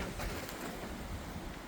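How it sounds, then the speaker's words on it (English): Wind gusts through an exotic garden with tree ferns, a steady broadband rushing with faint rustling and knocking of something loose nearby, continuous without talk. "Wind's blowing something around somewhere"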